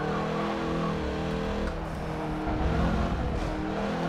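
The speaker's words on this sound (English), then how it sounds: "Definitely pushing these tires kind of to the limit. You can hear them scrubbing off," A car pushed hard through an autocross course, its tires scrubbing and squealing faintly over a loud, steady engine drone, with no talk.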